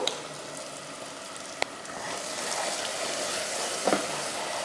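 Ground masala hitting a hot frying pan sets off a steady broadband sizzle that swells slightly toward the end, with a couple of faint stirring clinks; nobody speaks.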